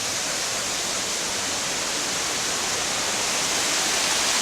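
Holtwood Falls, a series of waterfalls spilling over rock, roaring as a dense, constant hiss of rushing water, loud and close with no other sounds.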